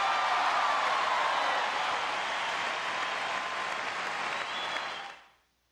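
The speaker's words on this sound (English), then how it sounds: "A round of applause for today's guest." A crowd's applause in the Bust a Move 2 video game rises at once as a dense, steady clapping wash, holds for about five seconds, then fades out quickly.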